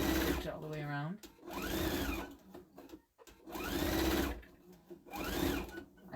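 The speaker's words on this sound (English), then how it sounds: "I'm just going to use a straight stitch all the way around." A sewing machine runs a straight stitch on a bunny Easter basket, whirring in several loud bursts separated by short pauses, with brief talk in between.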